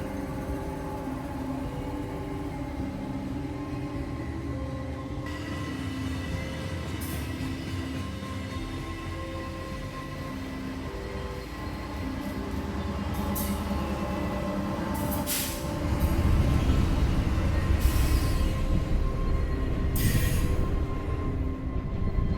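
A Union Pacific westbound intermodal freight train led by several diesel locomotives rolls past steadily, with rumbling wheels and horn-like tonal lines, the roar swelling louder toward the end as cars pass close by.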